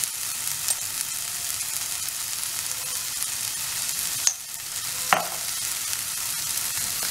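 Vegetable masala sizzles steadily in a hot pan after turmeric powder is added, a continuous close frying hiss with a couple of brief clinks of a spoon stirring, and no talking.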